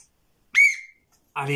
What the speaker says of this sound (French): Et voilà, le coup de sifflet final.